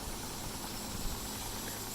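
A steam engine runs with a steam bleed venting, producing a steady, dense hiss with a faint low mechanical rumble beneath, continuous and fairly quiet.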